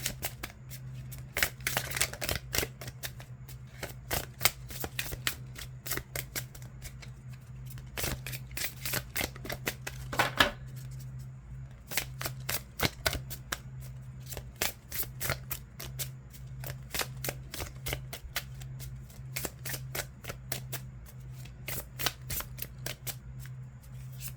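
Oracle cards being shuffled for a Sagittarius reading: a long run of quick, crisp riffling snaps repeating steadily, close and fairly quiet, with a low steady hum underneath and no voices.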